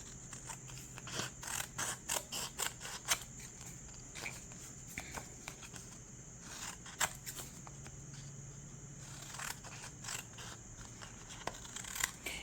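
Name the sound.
scissors cutting paper for mini booklets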